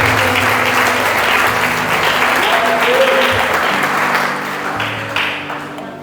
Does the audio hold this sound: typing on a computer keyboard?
no